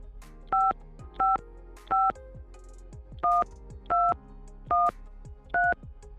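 A phone being dialed: seven evenly spaced dual-tone beeps, each short and clear, sounding alone and close with faint background between them.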